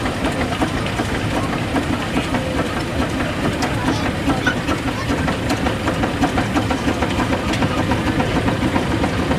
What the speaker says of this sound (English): just coming up to the commentary point, we have a D5 type Fowler road locomotive built in 1921